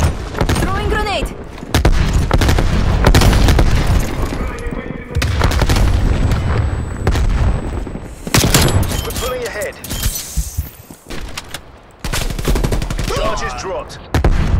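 In Call of Duty: Cold War, loud automatic gunfire rattles in long bursts with heavy booming blasts from a grenade mixed in, close and intense, while voices speak between the shots.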